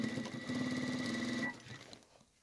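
Sewing machine stitching a fabric apron frill, a close rapid mechanical whirring rattle that runs steadily and then stops, leaving faint handling noise.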